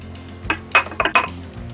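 A few clinking knocks of a utensil against a bowl while pan de bono dough is mixed, four or five close, distinct taps separated by brief pauses.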